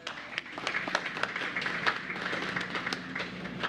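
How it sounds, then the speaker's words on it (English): A crowd applauds with dense, sustained clapping that carries on evenly throughout, moderately loud and fairly close. "Please give them a round of applause."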